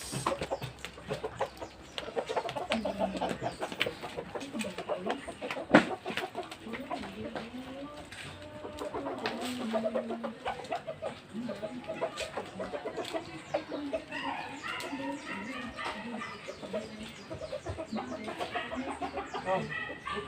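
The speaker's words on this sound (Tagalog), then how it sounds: "yung mga manok." Backyard chickens cluck and murmur steadily at close range while being fed, with people talking quietly over them.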